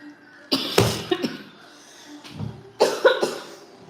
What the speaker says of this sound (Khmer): កំងប្រហុកឲ្យខ្ញុំក្អកទៀត